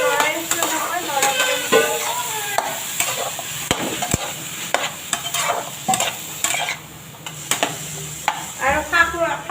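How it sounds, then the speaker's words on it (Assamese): Bottle gourd cooks in a pan while being stirred, giving repeated scraping strokes over a constant hissing sizzle, close up, with someone talking intermittently over it. "মই পানীলাও দি পেলাই লৰাই আছোঁ"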